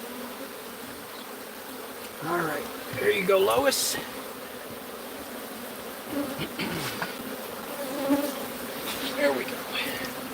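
Killer bees swarm and buzz steadily around a hive being destroyed, a dense insect drone running throughout with louder swells, while a person talks briefly over it.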